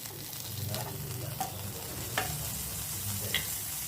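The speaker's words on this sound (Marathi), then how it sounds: "आता पाव शेकून घेते. हे बघा, छान बटर टाकून घेते." Pav bread toasts in butter in a pan, giving a soft continuous sizzle with a few light scraping stirs, close and gentle, with no talk.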